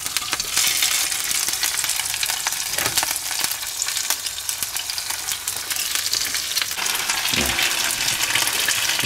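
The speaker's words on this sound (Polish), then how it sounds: "Jest to przygotowane, więc leci na patelnię i będziemy jeść sobie zaraz obiadek." Ready-made potatoes fry in a pan, giving a steady, dense sizzle and crackle that runs continuously at close range, with a few brief clinks or stirs along the way and no talking.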